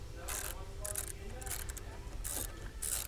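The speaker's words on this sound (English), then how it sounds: "we're just going to take our size 10 socket, loosen this nut right here" Ratchet wrench with a size 10 socket loosening a car battery terminal nut on an Acura TL, several quick bursts of close, crisp clicking separated by short pauses.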